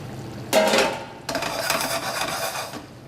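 Fregola grains tipped into a hot pan for a Sardinian dish, a sudden rattling pour followed by a continuous dry scraping and sizzling hiss, close and fairly quiet, no voices.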